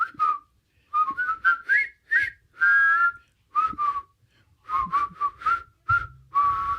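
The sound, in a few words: whistling scene from The Breakfast Club film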